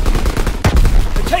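Call of Duty WW2 battle with close, loud gunfire, a burst of rapid shots and a heavy report mid-clip, over a constant roar of combat.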